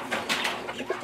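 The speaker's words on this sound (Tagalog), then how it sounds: "inaalagaan ko po yung kalapati ko" Pigeons coo softly nearby, a few low throaty calls overlapping in a brief burst.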